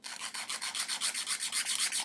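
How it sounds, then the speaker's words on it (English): A sanding stick rubs back and forth across the end of a wooden plank for an HM Sherbourne model ship, a steady rhythmic rasp of about a dozen close, even strokes with no talk. "So let me get my sanding stick."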